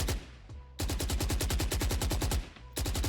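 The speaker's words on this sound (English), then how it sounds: "while we are firing the gun, the bullet is decreasing and it's reaching its limit" Automatic gunfire in a video game, rapid evenly spaced shots in long loud bursts with a short pause between them, close and dominant.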